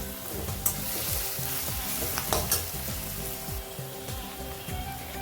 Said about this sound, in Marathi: कांदा छान 5-6 मिनिट बारीक गॅसवरती लालसर करून घ्यायचा. एकसारखा कांदा हलवायचा